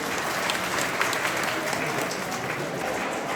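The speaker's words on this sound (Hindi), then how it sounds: "जोरदार तालियों से" Loud, steady applause from a school audience fills the hall without a break, dense clapping with crowd noise.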